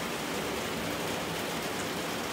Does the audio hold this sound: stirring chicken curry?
no